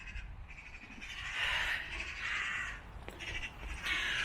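Crows caw repeatedly from a short distance as magpies try to raid their nest, the harsh calls coming in bursts over steady outdoor background noise.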